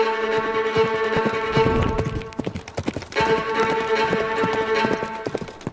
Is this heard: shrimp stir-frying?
no